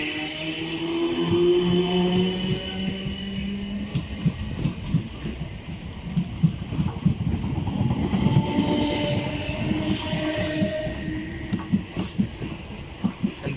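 A South Western Railway class 455 electric train on the Guildford to London Waterloo service runs through Clapham Junction, giving a steady rumble with rhythmic wheel clatter and a brief horn-like tone near the start.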